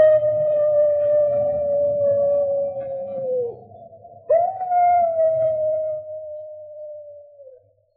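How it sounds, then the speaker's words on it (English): A wolf dog belonging to Moran howls in an old-time radio drama, giving one long sustained wail, breaking off briefly, then rising into a second drawn-out howl that trails away, loud and close over a low rumbling background. "Captain Drummond, that howl, it's the wolf dog. Moran's dog."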